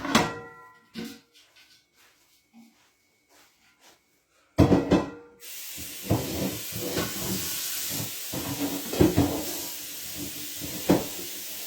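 A big cooking pot being handled and then rinsed out, a few clunks of the pot before water rushes in as a steady hiss with splashing bumps, close by.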